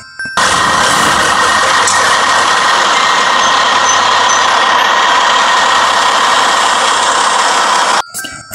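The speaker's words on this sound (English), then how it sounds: "This is a long bed truck." A long bed truck's engine idles steadily with a continuous broadband rumble and hiss, loud and close, running unchanged for about eight seconds before cutting off abruptly.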